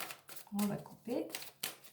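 Tarot cards cut by hand, giving a few brief papery riffles and slaps near the start and again toward the end, mixed with someone speaking softly in French.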